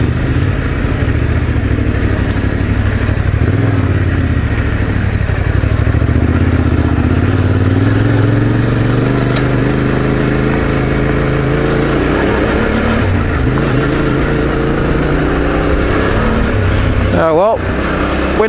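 A motorcycle engine drones steadily at high revs on a day ride, holding a strained, flat pitch that never climbs further, loud and close, with a voice talking over it.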